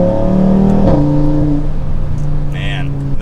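Audi RS3 fitted with a full aftermarket exhaust accelerates hard through a gear change, its loud droning engine tone dropping briefly at the shift before climbing again, close and continuous.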